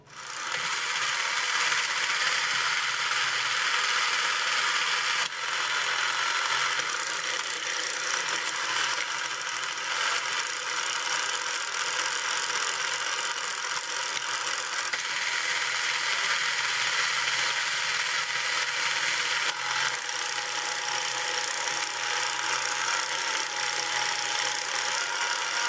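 Restored TOMY Daring Driver toy game mechanism running, a steady whirring motor with fast ratcheting clicks, loud and continuous with slight shifts in texture every few seconds.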